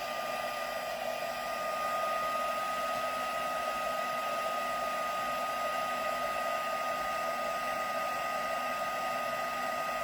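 A heat gun heat-setting a Gelli plate print gives a steady, loud, close blowing roar with a constant whine, continuous and unchanging for the full stretch with no talking.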